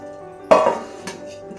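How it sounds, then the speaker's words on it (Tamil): A lid is set on a cooking pot while idiyappam dough steams: one sharp metallic clank, then a softer tap a moment later, in an otherwise quiet kitchen. "இப்போ நான் இதை லிட்டு போட்டு மூடிடுறேன்"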